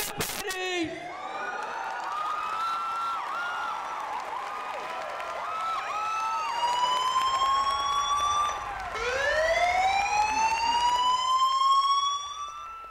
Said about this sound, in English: DEFCON 1, sound the alarm.